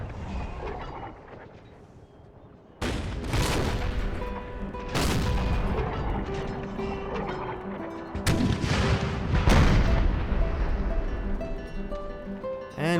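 Heavy cannon and howitzer fire in an Empire: Total War battle with the Brothers vs. Brothers Civil War mod: several loud, deep booms break out from about three seconds in, over a continuous rumble of battle.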